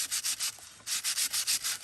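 Close, scratchy hand-sanding of a sheet of junk mail, several quick rhythmic strokes, a short break, then a second even run of strokes, no talking.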